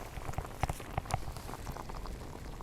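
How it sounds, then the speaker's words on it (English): Internal juices crackle and bubble inside a rested pulled pork butt held close, soft scattered pops and sizzling ticks over a low steady hiss, with no talking. "You can just hear those internal juices going crazy. This thing is bubbling from the inside out"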